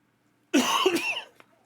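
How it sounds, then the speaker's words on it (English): A single close, harsh cough bursts out of near silence, rough and throaty, trailing off with a brief catch after about a second. "I'm still getting over the cough"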